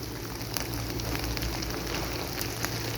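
Sliced new potatoes sizzle and crackle steadily in a pan of hot oil, a dense even frying hiss with scattered small pops, alone without talk.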